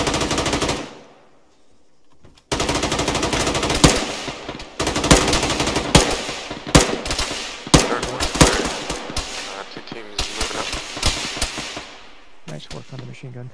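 Loud, close machine gun fire from a military shooter video game comes in repeated rapid bursts with short gaps between them, and players talk over the shooting.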